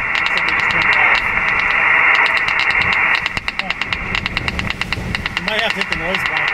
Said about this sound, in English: I wonder what that knocking noise is.